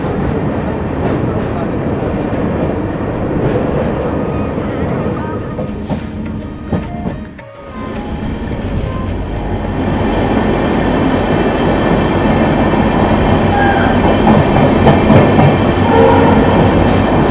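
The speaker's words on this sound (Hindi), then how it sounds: "अभी हमारी ट्रेन क्रॉस कर रही है ओडा ब्रिज को" Loud, continuous rumble of a broad-gauge train on the Ahmedabad–Udaipur line, with rhythmic clatter and a rising roar as it runs over the Oda Bridge.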